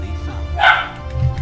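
One sharp dog bark rings out in the middle, fairly loud against a low steady background hum.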